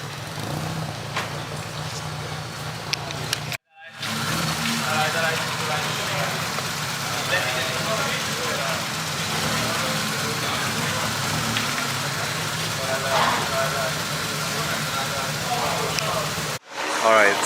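A cammed Mitsubishi Lancer idles nearby with a steady, lumpy rumble that carries on throughout, broken by a couple of brief cutouts.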